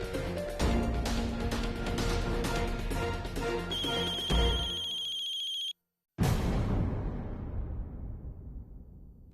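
Telephone ringtone from an incoming call in a Hindi TV serial scene, a loud electronic tonal ring repeating over a musical background, cutting off abruptly with a brief silence before the music swells again.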